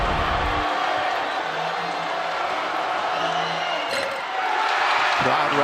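A basketball arena crowd during an NCAA game keeps up a steady, dense roar with scattered whoops and cheers filling the space, with voices blended into the continuous noise.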